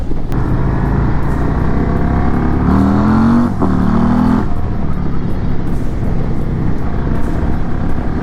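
A Harley-Davidson CVO Road Glide ST runs continuously on a test ride, its engine a loud, close, steady drone with a brief rise and fall in pitch partway through.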